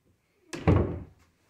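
A door to an understairs storage space in a house swings shut with a single solid thunk, close by in a quiet room, followed by a faint trailing tap.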